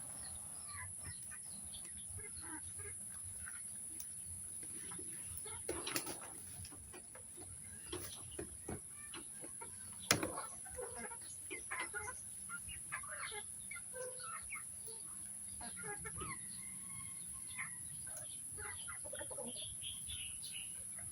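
Chickens cluck and squawk around a busy outdoor space, with scattered calls and a few sharp louder outbursts over steady background noise.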